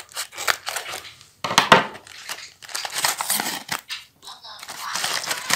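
A homemade surprise package holding a fidget toy is torn and opened by hand. Close crinkling, ripping and rustling of paper and plastic come in short bursts with brief pauses.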